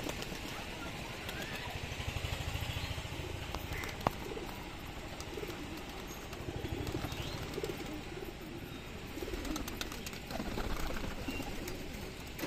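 Beldanga pigeons in a backyard loft coo softly and repeatedly, low and steady beneath a constant rumble of a nearby engine or passing motorcycle.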